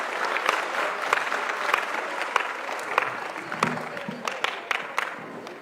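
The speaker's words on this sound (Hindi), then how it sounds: "जोरदार तालियों के साथ" A large crowd of schoolchildren and guests claps at a bicycle distribution event in the Pinjore forest complex, a sustained busy patter of applause with sharper individual claps standing out near the end, no talk over it.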